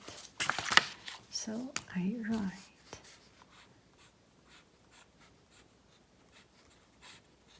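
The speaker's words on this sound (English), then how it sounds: "when I have good pens, I try to finish them, and that makes me have to write. So I write." Pen scratching across paper in a quiet room, a short burst of close strokes and scribbles at the start, then faint intermittent taps and scratches over near silence.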